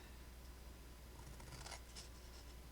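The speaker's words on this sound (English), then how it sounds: "we're going to take our scissors and we're going to cut up" Faint scissor snips cut card stock for a coffee mug gift box, a few soft crisp cuts near the end over a steady background hiss, with no voices.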